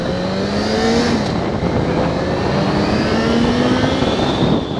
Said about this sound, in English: Oh, feel that inline 4 forward